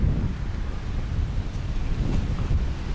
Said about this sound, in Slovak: Veľký vietor.